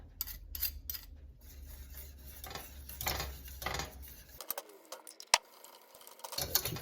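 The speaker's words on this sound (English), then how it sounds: "I'll go whisk that in." Whisk scraping and rubbing through a thick cream sauce with chicken base in a pot, a steady close rasping with light metallic ticks, alone without talk.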